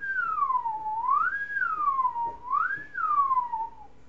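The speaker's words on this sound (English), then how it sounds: "to change the pitch of my whistle, I just slid my tongue" A single clear whistle, its pitch changed by sliding the tongue, glides smoothly up and down in slow, wavering sweeps, close and sustained.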